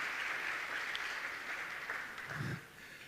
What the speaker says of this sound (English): Let's have a big round of applause because she is absolutely a unique and wonderful person.